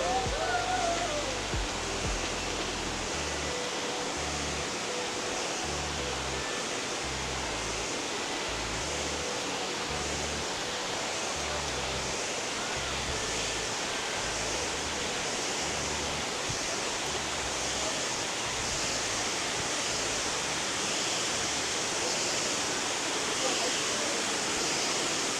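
Abbey Falls waterfall in Coorg roaring as a steady, dense rush of falling water, loud and continuous, with voices of people talking faintly underneath.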